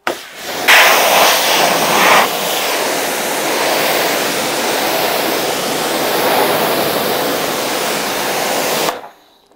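Water sprays hard over a car to rinse off an alkaline pre-wash during a hand car wash. It is a loud, close, continuous hissing rush with a brief surge early on and no speech.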